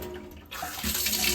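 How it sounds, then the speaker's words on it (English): Water gushes from a household tap turned back on after a valve cartridge repair, starting with a faint spluttering as air purges, then swelling into a strong, steady close stream splashing into the sink. "Water's now back on."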